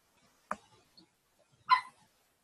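A neighbour's dog gives two short, sharp barks about a second apart, fairly close and otherwise quiet around them.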